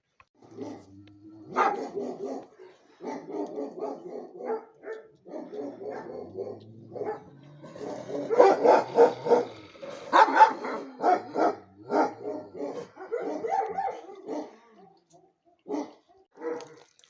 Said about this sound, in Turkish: bu da benim eski köpeğim vardı Badi.